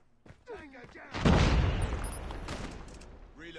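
Locust sniper rifle in a multiplayer shooter video game, a heavy booming report with a long rumbling tail, surrounded by brief game voice chatter and effects.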